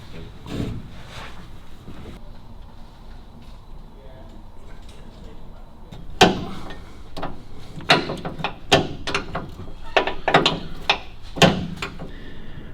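Adjusting and tightening the seized cable brakes on a 1934 Buick: a run of sharp metallic clicks and clanks, close and fairly loud, arriving in an irregular burst over the second half after quieter handling noise.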